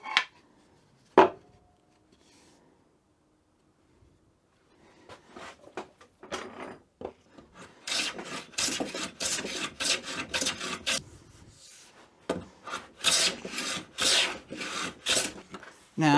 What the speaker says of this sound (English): I'm going to use the book matching and planing to get that nice joint edge for these so we can laminate them together